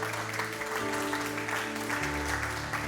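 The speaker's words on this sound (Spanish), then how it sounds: "Denle un fuerte aplauso al Señor, porque Él vive." A church congregation gives a sustained round of applause at the close of a Sunday service, steady and moderately quiet, over a low held musical tone from an instrument.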